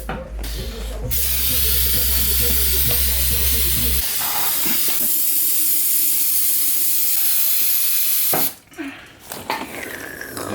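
Brake cleaner hisses from an aerosol can as it is sprayed onto the open differential of an S14 in a garage, a loud, continuous spray that runs for several seconds with a brief pause and then a short final burst.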